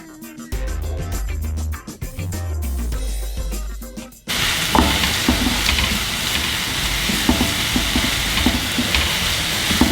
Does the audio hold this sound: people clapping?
no